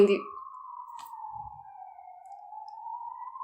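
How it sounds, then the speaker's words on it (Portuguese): An emergency vehicle siren wails outside as a steady, drawn-out tone that dips slightly and rises again, fairly faint and distant, heard alone after a brief bit of noise at the start. "Não sei se estão a ouvir a sirene"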